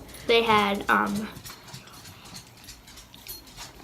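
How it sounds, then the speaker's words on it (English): A dog gives two short whining yelps near the start, followed by quieter rustling and faint background noise. "That's just my dog."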